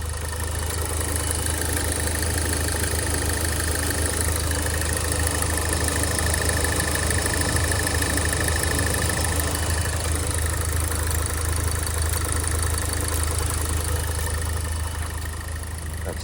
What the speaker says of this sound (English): 2-liter Ecotec engine with a turbocharger, factory rated at 260 horsepower.